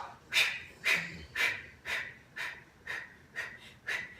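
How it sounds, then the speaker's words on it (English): Heavy, rhythmic breathing during an abdominal exercise, with eight forceful exhales spaced about half a second apart, close and fairly quiet, with no talking. "You breathe, breathe, breathe."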